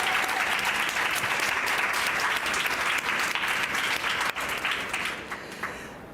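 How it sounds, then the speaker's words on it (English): An audience applauds panel speakers at an art conversation event, giving a dense, steady round of clapping that fills the whole stretch and tapers slightly at the end. "please do give Elena, P and Tiona a very warm round of applause"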